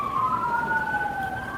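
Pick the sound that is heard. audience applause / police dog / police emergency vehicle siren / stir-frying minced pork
police emergency vehicle siren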